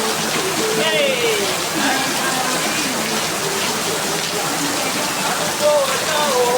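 Steady rain falls with a dense, even hiss, fairly close and loud, while a person talks over it throughout.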